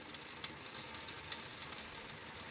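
Catfish roasting in an oven, giving a faint, steady sizzle with light crackles and a few small pops throughout.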